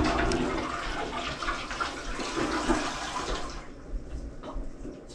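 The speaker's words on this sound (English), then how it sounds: "Flush that toilet over there, please." A household toilet in a bathroom flushes with a loud rushing whoosh of draining water that fades to a quieter refill trickle after about four seconds, during plumbing work on a clogged drain.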